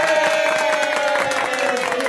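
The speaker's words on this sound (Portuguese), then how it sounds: "Palmas aí, pessoal." Studio audience on the Brazilian TV show Balanço Geral clapping and cheering loudly for the duo Tony Garcia and Reinaldo, a dense steady burst of applause with crowd noise throughout.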